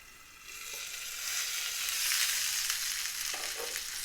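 Garlic pork chops fry in a covered pan, giving a steady, fairly quiet hiss and crackle that swells slightly in the middle, with a couple of soft clicks and no talking.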